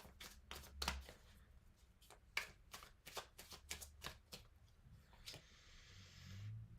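Tarot cards are drawn and flicked from a deck, giving a quick series of crisp, close slapping and riffling snaps spaced irregularly, with a softer shuffle near the end and no talking.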